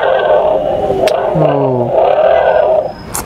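A toy motorcycle sound plays from a children's electronic sound book, a loud, steady, roaring engine rev lasting a few seconds with a brief voice exclamation over it.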